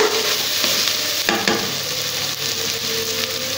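Food sautéing in the Teflon-coated nonstick pot of a Geek Robo Cook machine, a loud continuous sizzle with brief scraping and stirring sounds partway through.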